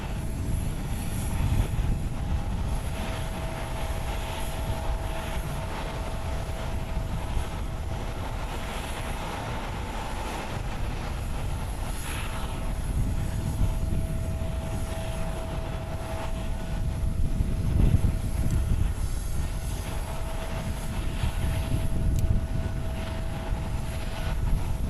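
An aircraft taxiing on the ground at Haneda Airport in Tokyo, a steady close engine rumble and whine holding throughout with no voices.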